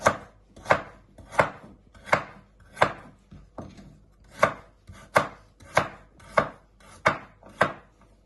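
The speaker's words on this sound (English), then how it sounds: "And then just keep chopping them into little pieces." A knife chops carrots steadily on a cutting board, about a dozen sharp, evenly paced strikes with crisp attacks and no talking.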